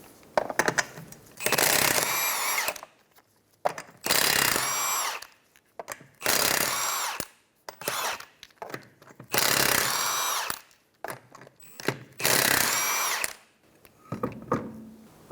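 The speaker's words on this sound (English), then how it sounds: "Using a 21mm socket, we're going to remove the 5 lug nuts." Power impact tool with a 21mm socket removing five lug nuts from a 2007-2012 Nissan Altima rear wheel: five loud close bursts of whirring and rattling, each about a second or two long, separated by short pauses, no talking.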